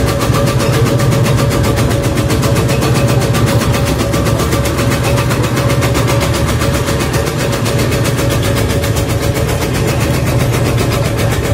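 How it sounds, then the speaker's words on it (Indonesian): A homemade tobacco shredding machine powered by a half-horsepower engine runs loudly and steadily, giving a dense, even mechanical drone with a fast rhythmic chopping pulse that never lets up for the whole stretch. "Dengan mesin setengah PK cepat sekali lur."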